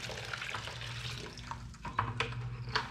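Clean water pours steadily into a mortar tray used for separating worm cocoons from bedding, a continuous splashing rush with a few louder sloshes and drips toward the end.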